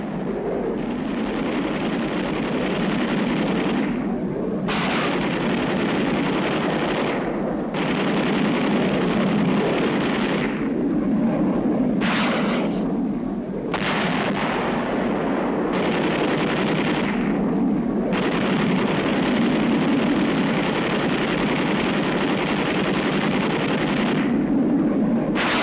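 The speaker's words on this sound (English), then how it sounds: "This is the pilot's view of an air attack on North Korean positions during the week of 26 July." Gunfire and explosions from an F-80 jet air attack on North Korean positions in the Korean War, heard as a loud, continuous roaring rumble with dense rattling bursts, broken by several abrupt cuts.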